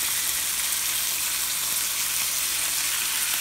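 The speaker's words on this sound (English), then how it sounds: "This boyo sizzles like crazy." Three slices of bacon sizzling in a frying pan, a dense crackling hiss that holds steady and close throughout, with no voices.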